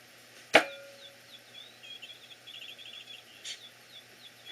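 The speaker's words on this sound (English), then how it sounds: "Let's see if you can hear my bird." Pet bird chirping indoors: a quick series of soft, high chirps and a short trill after a sharp knock on a table, faint and somewhat distant over a low background hum.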